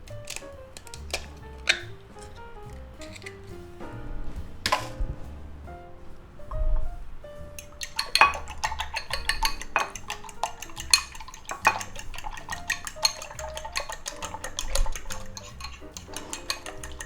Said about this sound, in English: Now all we gotta do is beat up 3 eggs